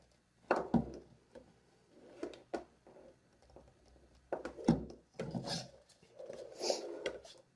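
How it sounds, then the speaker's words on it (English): Excess lamp cord slack is pulled through a Thruster lamp during assembly, giving quiet, close, intermittent rubbing and scraping strokes in short bursts with pauses between. "So now what I'm just trying to do is pull up a little excess slack of the cord."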